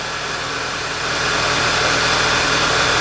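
A 2011 VW Tiguan with a rough-running fault sits idling nearby, a steady, even engine drone with a low rhythmic pulse and no talking over it.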